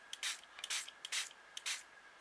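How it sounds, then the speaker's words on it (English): Card misted with colour from a spray bottle: five or six short hissing spritzes in an uneven rhythm, fairly close and quiet, with no talk. "And make sure you're spraying it in the right direction."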